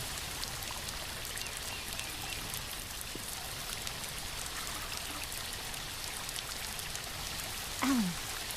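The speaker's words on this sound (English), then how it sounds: "Alan, I think this is the waterfall that Walter mentioned before we lost contact" Waterfall pouring steadily with a dense, even rush of water that holds at a constant level throughout, with a short rising tone near the end and no voices.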